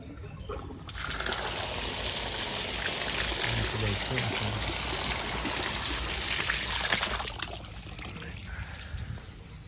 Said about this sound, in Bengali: সো লাইনে পানি আমরা ওয়েট করবো যে পানি কখন বের হয়।